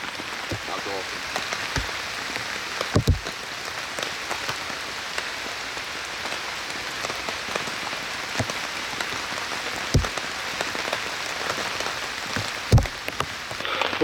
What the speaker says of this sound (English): rain's not stopped. It's actually gotten worse